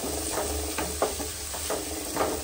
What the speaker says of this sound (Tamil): ஆனியன் நல்லா வதங்கிடுச்சு ஃப்ரெண்ட்ஸ்.